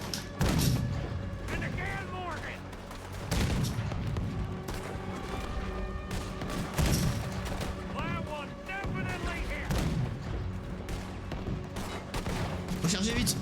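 Cannon fire aimed at a boat in Red Dead Redemption II, with repeated heavy booms and crashing blasts in a dense battle din. Voices talk and shout throughout.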